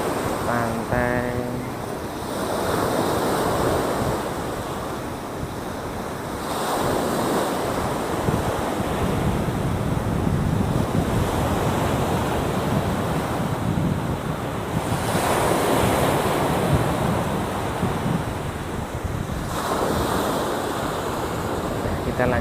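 Surf washing onto the shore at Pasir Putih beach in Tuban, East Java, with strong wind buffeting the microphone; waves swell and recede in long surges, close and loud.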